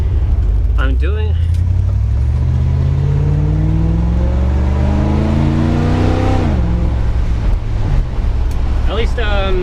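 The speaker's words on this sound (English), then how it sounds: "Backroads is a real great place to romp on this motor." A 1964 Dodge Custom 880 with a four-barrel carburetor is floored on a back road, its engine roaring loud and steadily climbing in pitch for several seconds before dropping off sharply and then settling into a lower drone.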